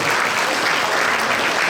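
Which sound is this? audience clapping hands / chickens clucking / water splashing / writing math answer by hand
audience clapping hands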